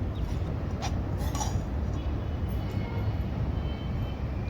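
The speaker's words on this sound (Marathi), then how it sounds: "तर भाजीनं आता भांड्यात काढून घेते मी" A cooked ash gourd bhaji is served from a pan into a vessel at home, with a few soft metallic clinks and scrapes of a spoon early on over quiet background noise.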